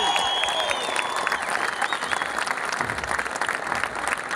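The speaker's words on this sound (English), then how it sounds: "So a massive cheer for Marty McNulty." A crowd at the Tyrone Junior Championship winners' celebration claps and cheers, a dense burst of applause with some whistling and shouts, loud and continuous over the short span.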